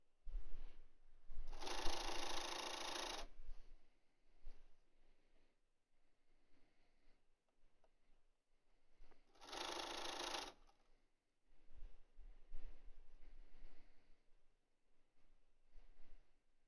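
Sewing machine stitching a fabric mask along a folded edge, with two short bursts of steady, fast whirring a few seconds apart, amid quiet handling noises between runs.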